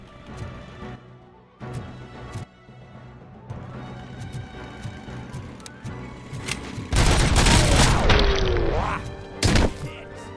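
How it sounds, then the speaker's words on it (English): Gunfire from enemies in the RoboCop: Rogue City video game rattles in loud bursts and single shots. A heavy, dense barrage builds toward the end, with an engine-like whine sweeping through. "They're just driving in circles and occasionally shooting at me"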